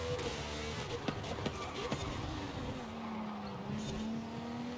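A race car in Forza Horizon 5 slides sideways with lift-off oversteer, its engine droning steadily while the tires squeal and scrub continuously across the whole stretch, loud and close with no talking.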